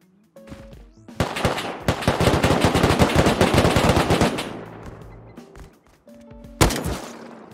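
Automatic gunfire in the Rust video game rips out as a long, loud, sustained burst of rapid shots, tails off into echoes, then a single sharp shot cracks a few seconds later.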